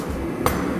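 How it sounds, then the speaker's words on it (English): One crisp hammer strike lands on a piece of cold platinum during forging, a single bright metallic impact that rings briefly over steady workshop background noise. "Let's see what happens when we hammer it cold."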